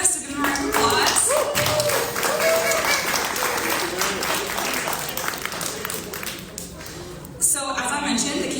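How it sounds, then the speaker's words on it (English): An audience applauds presidential debate candidates at a university debate, a dense sustained wash of clapping filling the hall for several seconds, with voices mixed in and a fresh burst near the end. "give them a round of applause"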